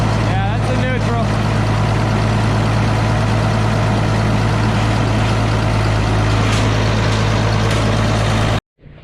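A vehicle engine idles in neutral, a steady low rumble running continuously up close, with voices talking over it before it cuts out abruptly near the end.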